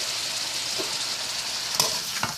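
A pot of seasoned rice with crab, shrimp and Portuguese sausage sizzles loudly and evenly, with a few soft scrapes of a spoon stirring through it near the end.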